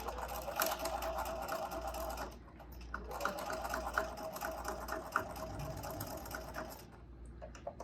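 Sewing machine stitching along the pleats of a fabric mask, running in steady close whirring bursts with a brief pause partway and a short back-stitch run before stopping.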